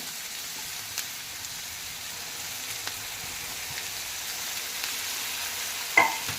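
Tomato frying with onions in a pan for vangi bath: a steady, soft sizzle with a faint stir or tap now and then and a brief clink near the end, no talk.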